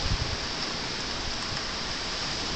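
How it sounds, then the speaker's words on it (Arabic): Steady rain falls in a continuous, even hiss that fills the whole stretch, close and moderately loud with no voices over it. "الله كيف المطر"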